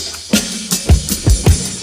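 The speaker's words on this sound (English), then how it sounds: "I then went out to get this drum loop." Drum loop sample playing back on an MPC sampler at 81 BPM, with punchy low kick hits and snappy transients repeating in a steady groove, loud and clear with no talking.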